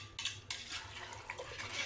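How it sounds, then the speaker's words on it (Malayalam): A spoon scrapes and clinks against a pot as 1.5 kg of rice is stirred into boiling water for beef biryani, a few sharp metallic knocks over soft bubbling, close and fairly quiet. "ഞാൻ അരി ഇട്ടിട്ട് നല്ലപോലെ ഇളക്കുന്നുണ്ട് കേട്ടോ"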